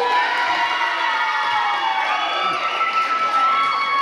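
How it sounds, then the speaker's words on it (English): Cheering and shouting from a gym crowd at an eighth grade girls basketball game, a voice among others, with loud continuous high-pitched yells and chatter filling the whole stretch. "Keep that kid cheering."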